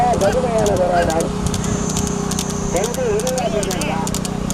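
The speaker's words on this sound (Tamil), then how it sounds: "திருச்சி மாவட்டம் முதல் சூரியன் நம்பி அவரது குதிரை முதலாவதாக" Racehorses gallop in a Tamil Nadu horse race, their hoofbeats a steady rumble beneath a loud, continuous commentator voice and crowd noise.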